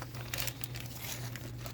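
A plastic bag holding the windows of a Revell/Monogram wrecker model kit crinkles and rustles as the parts are handled, a close, continuous papery crackle over a faint low hum.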